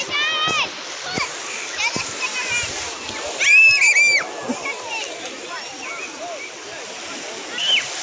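Sea water splashing at Portobello beach in Edinburgh, Scotland, with irregular splashes against a background of surf while children's voices chatter and shout nearby.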